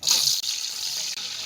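Whole cinnamon, cardamom, black pepper, cloves and bay leaf fry together in hot oil in a cooking pan, giving a steady, loud, close sizzling hiss that runs unbroken with two brief dips.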